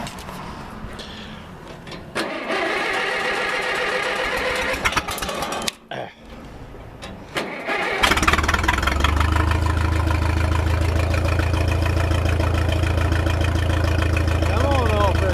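A 1956 Minneapolis-Moline 445 tractor engine is cranked and catches, settling into a loud, steady, close low rumble after some mechanical rattling and switching noises beforehand.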